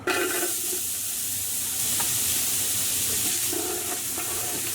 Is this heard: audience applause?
no